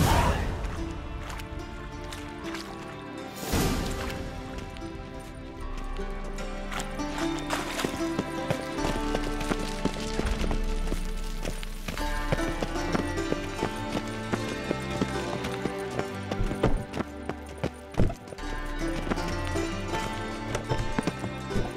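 Horse hooves clip-clopping at a gallop in The Witcher 3, a steady rhythmic beat running under a dense orchestral game score for the whole stretch.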